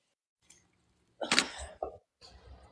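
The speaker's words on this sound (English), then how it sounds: "Ooh, I need a sneeze." A single close sneeze bursts out after a short inhale, followed by a small sniff and some quiet shuffling.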